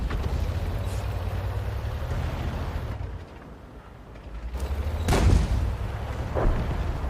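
A tank cannon fires in World of Tanks with a heavy boom near the middle, followed by a rumbling echo and a second fainter blast over steady engine drone.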